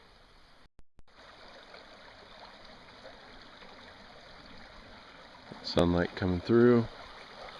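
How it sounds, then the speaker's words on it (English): A small, seasonal woodland creek running high, giving a steady, soft trickling wash throughout, with a voice talking briefly near the end. "This little creek is pretty high right now."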